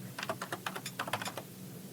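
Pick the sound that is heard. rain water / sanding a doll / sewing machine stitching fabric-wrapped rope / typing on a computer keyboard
typing on a computer keyboard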